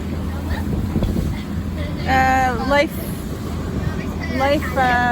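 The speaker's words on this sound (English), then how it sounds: "Between 20 and 30 knots of true wind speed." Steady wind roar of 20 to 30 knots buffeting the microphone on a sailboat in the Kattegat, with a voice speaking briefly partway through.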